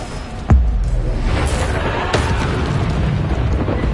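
A Bombarda spell in Hogwarts Legacy goes off as a sharp, loud blast that trails into a long rumbling roar of debris, with a softer second burst following and no talking.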